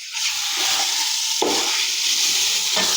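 Chillies frying in a hot pan for Pakistani yakhni chicken pulao, giving a steady, loud sizzle with brief stirring scrapes. No one speaks.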